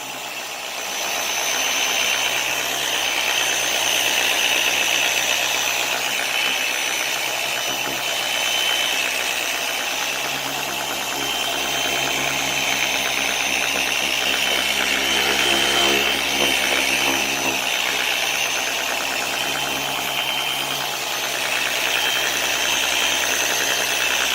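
An electric car polisher with a pad runs at speed setting 5, buffing oxidized paint on a car's hood in a long, steady whine that rises and falls slightly with pressure, and no one speaks.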